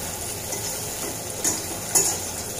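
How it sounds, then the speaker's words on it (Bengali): Dried fish (shutki) fries with onions in a pan, a steady close sizzle running throughout, broken by two brief scraping stirs of a utensil against the pan. "শুটকিগুলো আমি এগুলোর সাথে ভাজবো"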